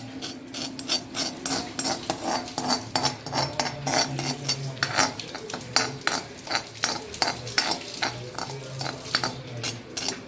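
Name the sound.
stirring and roasting onion and coconut in a pan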